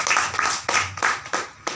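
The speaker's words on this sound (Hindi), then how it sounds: "तालियां बजाओ ऐसे सिस्टम के।" Clapping at a business meeting, heard as a few loud, close bursts of hands striking together in uneven rhythm, each clap sharp and separate.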